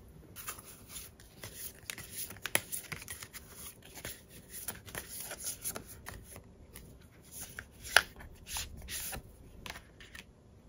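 Tarot cards being shuffled and handled, a run of crisp, rapid riffling and sliding card sounds with occasional sharper snaps, close and alone with no voices.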